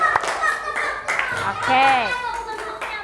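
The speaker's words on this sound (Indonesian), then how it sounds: "Tepuk tangan untuk semuanya." Children in a classroom clap in brief, scattered bursts while young voices and an adult speaking fill most of the moment.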